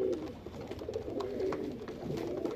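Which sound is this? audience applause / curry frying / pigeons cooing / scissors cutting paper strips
pigeons cooing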